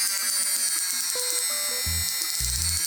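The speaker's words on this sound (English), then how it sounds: "And the speed, you can hear the motor." An ACEKOOL 5 in 1 blender motor runs at slow speed with a steady, close electric whir, while low musical notes play underneath.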